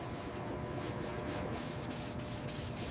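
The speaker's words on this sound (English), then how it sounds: "Wet sanding the primer with a fine grit sanding block for a glass-smooth finish." Soft, steady rubbing of a fine-grit sanding block wet sanding primer on a car body, with repeated back-and-forth strokes at a low, even level.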